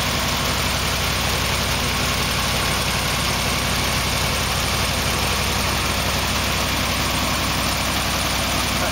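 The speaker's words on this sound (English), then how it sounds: "That's a good RPM to warm the machine up for a little while." A machine engine idles at a steady RPM while it warms up, a loud, continuous, close rumble with a constant hum and no changes or speech throughout.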